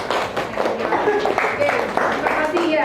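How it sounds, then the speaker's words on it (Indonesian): A classroom group claps for a student, a brief burst of scattered hand claps mixed with children's voices talking. "Tepuk tangan buat Mbak."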